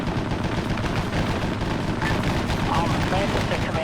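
Enemy gunfire from spider holes in a Vietnam War combat operation in a video game, dense continuous shooting and rumbling battle noise filling the scene, with voices talking faintly underneath.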